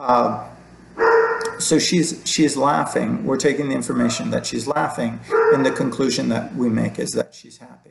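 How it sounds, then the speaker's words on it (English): A dog barks intermittently in the background while a person talks steadily in the foreground. "I'm sorry if you hear my dog barking."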